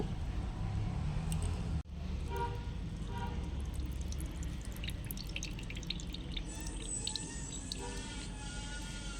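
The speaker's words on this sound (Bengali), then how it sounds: "আমি আমের থেকে জলটা বার করে নেব" Water drains out of salted, turmeric-coated mango pieces for pickle, a steady trickling and dripping with small splashes and wet squishes, close by, with a brief knock near the start.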